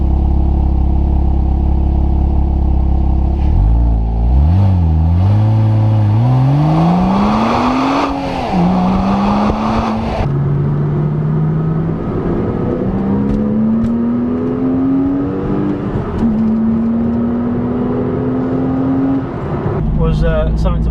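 An Audi TTS engine revs hard through rising, climbing gear pulls, loud and close, with someone talking over it throughout.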